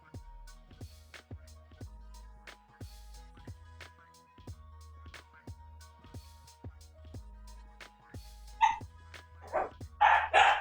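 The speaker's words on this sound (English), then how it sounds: "my puppy. You can hear her as she goes outside." A puppy barks in a few loud, sharp bursts near the end, close by, following a stretch of steady clicking and thumping from a keyboard being typed on.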